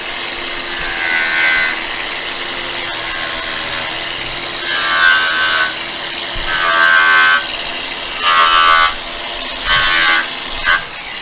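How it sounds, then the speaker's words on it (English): Hand sanding or abrasive scraping strips paint from the inner sill of a Toyota Supra ahead of spot welding, a steady close rasping scrub repeating in several strokes with brief pauses over continuous workshop background. "That was Tim just removing a little bit of paint so that we can get the spot welds in on that bad boy"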